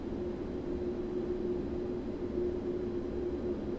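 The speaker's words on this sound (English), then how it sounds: "Dang, that airplane's loud." Steady drone of a jet airliner, a PMDG 777-300ER in a flight simulator, parked at São Paulo airport, with constant broadband engine noise and a faint steady whine running throughout.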